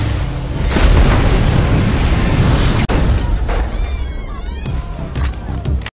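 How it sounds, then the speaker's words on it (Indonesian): In an Akshay Kumar action film, an RDX weapon is fired and sets off a loud, close explosion: a heavy rumbling blast that roars on, then fades into crackling debris. "Riaz langsung menembakkan senjata RDX ke arah Surya Suryavansi dan pasukannya"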